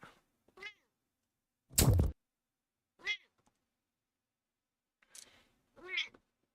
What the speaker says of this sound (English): She's meowing aggressively.